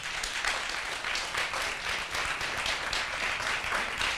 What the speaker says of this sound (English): Give an applause for Jan van Maarseveen.